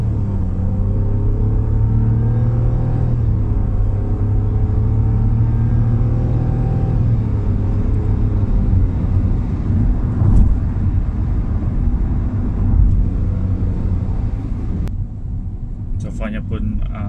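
A 2020 Nissan Almera Turbo on a test drive gives a loud, steady engine and road rumble from inside the cabin, its pitch rising and falling with speed, ending with a few clicks and knocks.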